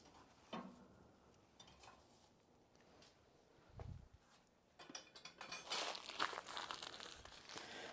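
Sheets of paper being crumpled by hand for starting a fire, crisp crinkling and rustling close up, quiet at first and growing denser and louder toward the end.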